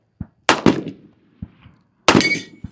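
Handgun shots at a shooting range, two loud sharp cracks with echoing tails about a second and a half apart, with softer thumps and clicks between them, close by and with no talking.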